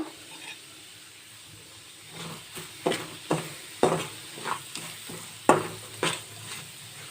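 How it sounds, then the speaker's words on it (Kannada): Semolina (rava) dry-roasting in a pan for kheer, with a low quiet hiss under repeated scraping stirs that come in irregular bursts, several sharp strokes standing out near the end. "ಒಂದು ಕಾಲು ಕಪ್ಪಾಗಷ್ಟು ರವೆನ ಹಾಕಬಿಟ್ಟು ಕೆಂಪುಗೆ ಫ್ರೈ ಮಾಡ್ಕೋಬೇಕು"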